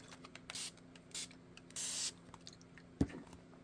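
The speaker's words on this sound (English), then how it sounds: "Let's spray this." Three short hissing sprays from a spray bottle, spaced apart against quiet background, followed by a soft thump.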